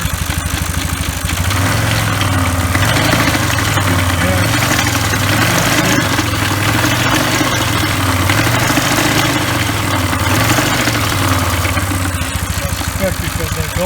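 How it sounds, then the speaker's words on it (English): A 1997 Polaris 500 ATV engine with a torn drive belt and melted outer clutch runs steadily nearby, a loud continuous buzzing idle with a slight wavering pulse. "I just want to start it and run it and see what's going on"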